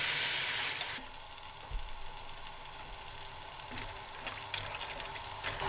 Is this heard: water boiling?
yes